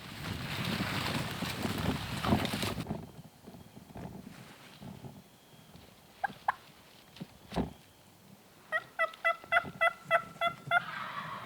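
Wild turkeys gobble during a spring turkey hunt in Middle Tennessee, rapid rattling gobble bursts ringing out toward the end after rustling and scattered soft clucks, fairly distant in the woods.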